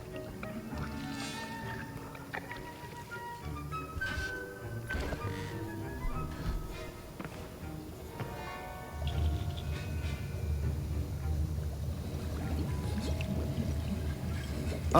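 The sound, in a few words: stirring a potion in a cauldron, Hogwarts Legacy video game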